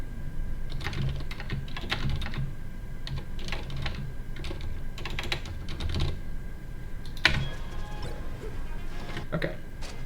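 Quick bursts of typing on a computer keyboard during a Super Smash Bros. Melee coaching session, clustered rapid key clicks with short pauses, close and clear under a low room hum.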